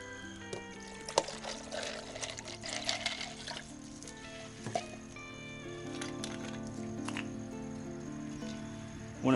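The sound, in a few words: pouring margarita mix into a machine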